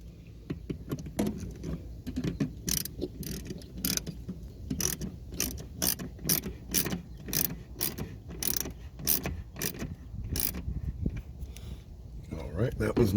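A ratchet clicks in a steady run of sharp, close strokes while tightening a bolt on a Veraram cold air intake on a 2015 Camaro SS, with a brief pause midway and faint handling noise underneath.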